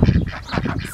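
Pet ducks quack and honk up close in a garden, a dense burst of several overlapping nasal calls with no talking.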